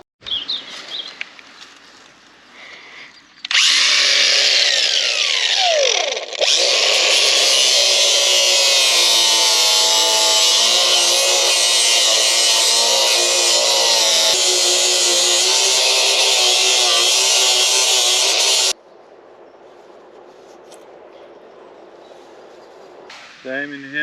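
Power tool grinding damaged fiberglass on the hull of a 19ft sailing boat, a loud, sustained, high-pitched grinding whine that starts abruptly, dips briefly, then runs steadily for about fifteen seconds before cutting off to quieter background.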